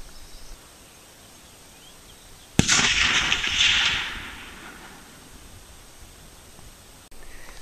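A single sharp report from a Howa 1500 .30-06 rifle firing a 180-grain round-nose cast bullet outdoors, loud and close, followed by a rolling echo that fades over about two seconds.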